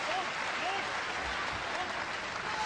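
Wrestling crowd at a UWF pro wrestling match during a chokehold, a continuous roar of cheering and yelling with applause-like noise throughout, mixed with a commentator's voice.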